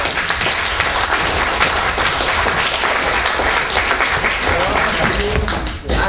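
Steady, loud applause fills a university student comedy night in a lecture theatre, with dense clapping throughout, a few cheers over it and a brief dip near the end.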